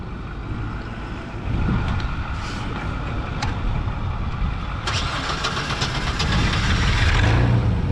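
Hyster H80FT 8,000 lb propane forklift engine cranks and catches, then keeps running at a steady, loud mid-pitched idle with some rattling clicks on top, close to the machine with no talking.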